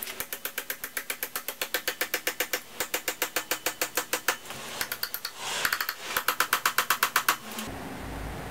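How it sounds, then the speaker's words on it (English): A pickle fork is driven against a car's ball joint to loosen it, giving a fast, steady series of sharp metallic knocks. The hits keep a regular rhythm with one brief break and stop abruptly near the end. "First thing I'm gonna do is use a pickle fork, stick it down there"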